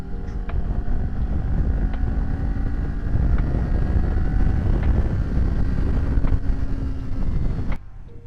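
A Kawasaki Ninja 500 motorcycle accelerates past another vehicle on a spring road, a loud sustained engine drone with heavy wind rush over the microphone, cutting off abruptly near the end.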